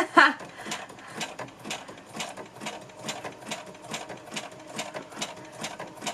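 A sewing machine stitching at a moderate, steady pace, its needle thumping rhythmically with a soft mechanical whir, fairly quiet and close.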